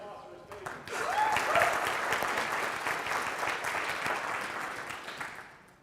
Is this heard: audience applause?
yes